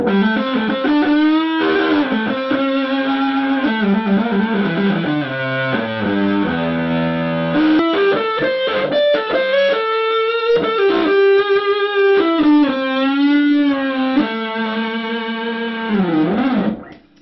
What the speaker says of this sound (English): And then I've got a few different distortion pedals